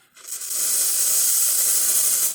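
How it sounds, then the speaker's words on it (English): The steam wand of a Rocket Mozzafiato espresso machine lets out a loud, steady hiss that starts abruptly, holds evenly for about two seconds, then cuts off. "And let's try the steam."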